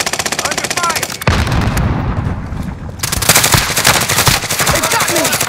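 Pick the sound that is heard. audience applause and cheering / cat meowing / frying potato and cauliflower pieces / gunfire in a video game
gunfire in a video game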